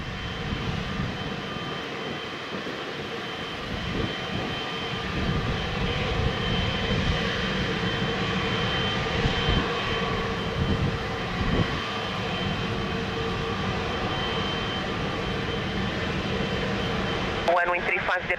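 Jet airliner engines at Lisbon Airport roar steadily and loudly for the whole stretch, a continuous broadband rumble with a brief rising whine near the end; radio-style talk runs faintly underneath.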